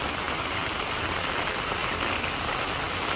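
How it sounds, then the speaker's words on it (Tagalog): Heavy rain pouring down steadily, a dense constant hiss filling the scene with no pauses and no voices. "lakas po ng ulan"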